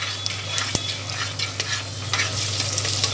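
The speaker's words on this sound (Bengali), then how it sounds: "পেঁয়াজ, আদা, রসুন, কাঁচা লঙ্কা, এটা আমি তেলের ওপরে দিয়ে দেবো। তেলের মধ্যে দিয়ে একটুখানি নেড়ে নেব" Onion, ginger, garlic and green chilli being stirred in hot oil, a steady sizzle under scattered scrapes and clinks of a spoon against the pan, with one sharp knock near the start.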